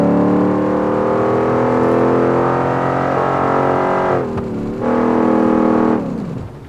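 A redneck truck engine in BeamNG.Drive revs loud and sustained with rod bearings failing, its droning tone wavering, briefly dipping and recovering, then dropping away as the engine dies.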